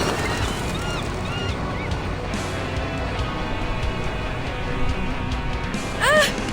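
Attacking birds in Reverse 1999 give scattered honks over a steady noisy background, ending in a louder, close honking burst.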